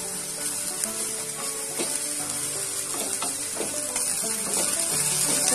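Finely chopped garlic and grated ginger sizzle steadily in a hot pan while being stirred for a malai makhana vegetable dish, a continuous close frying hiss with soft stirring scrapes and no talking.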